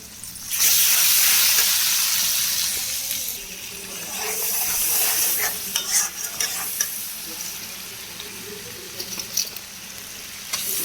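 Fish frying in a pan with garlic paste, a close, hissing sizzle that swells and fades with bursts of crackle and spatter, a few light utensil clicks mixed in.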